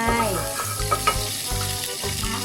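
Loud, steady frying as oil crackles and sizzles in a wok, with occasional soft knocks from stirring and no talking.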